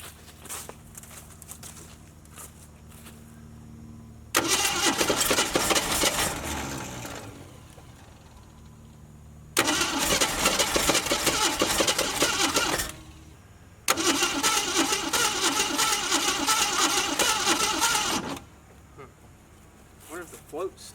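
A Ford Maverick engine left unrun for 26 years sputters to life in three separate bursts of rough, loud running, each dying back to near quiet before the next start.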